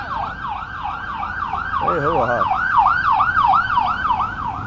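A wailing ambulance siren sweeps up and down in a fast, regular cycle, loud and fairly near, while someone speaks briefly over it.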